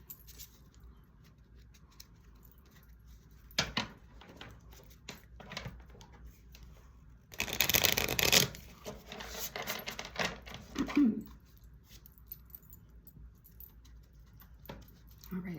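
Animal Spirit oracle cards are shuffled in short rustling bursts, with one loud riffling flurry midway, between quieter pauses.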